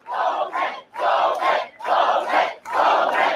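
A large crowd chants the name "Bowman" in a steady two-beat rhythm, four loud repeated chants with short pauses between them, rousing and close.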